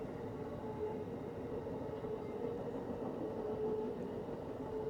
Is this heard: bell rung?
no